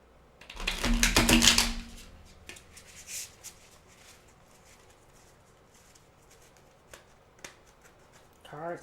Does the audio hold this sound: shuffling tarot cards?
yes